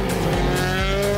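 A T2000/S2000 race car at the Panama international circuit, its engine screaming as it accelerates hard, a loud rising whine with rich harmonics and a quick gear-shift dip partway through.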